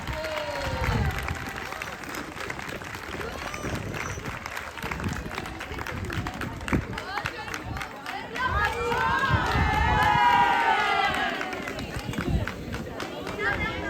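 A crowd at a children's Miss and Mister pageant in Le Baizil claps and cheers, with lively applause, shouts and excited children's voices rising to a louder burst midway and people talking throughout.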